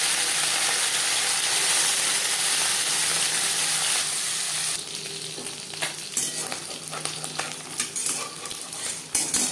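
Steady, dense sizzling of small mourola fish frying in hot oil, loud and close, with occasional clinks and scrapes of a utensil in the pan.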